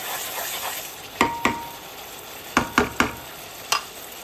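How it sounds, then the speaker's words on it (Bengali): Spice paste fries in a pan for green chicken, a steady low sizzle with several sharp scraping stir strokes cutting through it, close and fairly loud, no talking. "মশলাটা ভাজা ভাজা হয়ে গেছে"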